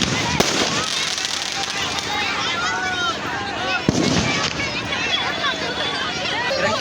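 Firecrackers burst from a burning Ravana effigy at a Dussehra celebration, a dense crackle of pops and bangs with sharp louder reports near one second and four seconds, under a hubbub of crowd voices and shouting.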